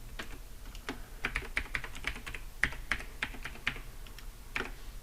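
Someone types a password on a computer keyboard, producing a quick, uneven sequence of close, sharp key clicks with short gaps between bursts.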